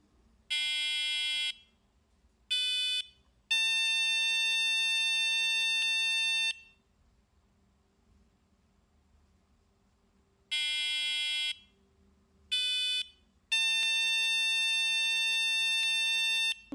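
Adafruit Circuit Playground Express board plays a three-note electronic song twice over, bright sustained beeping tones separated by a quiet pause, with no voices.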